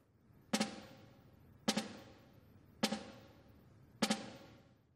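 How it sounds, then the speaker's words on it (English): A snare drum plays four evenly spaced drags, each a quick pair of soft grace notes flamming into a crisp main stroke, ringing briefly in a quiet room with no talking. "Then I'm going to practice my drags or my RUFFS, which is going to have two grace notes."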